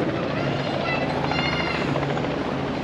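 A helicopter flies in near a rural pub, its loud, steady rotor thrum and engine roar filling the whole short stretch with no break.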